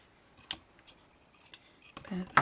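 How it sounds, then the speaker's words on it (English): Scissors snipping through tassel threads, a few sharp crisp cuts spaced unevenly, close and fairly quiet, with brief faint voice sounds between them. "so I'm just going to cut them off"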